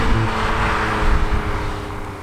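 A 2019 Infiniti Q60S Red Sport 400 luxury coupe driving, with a loud, steady engine drone and road rumble heard from close by, no talking.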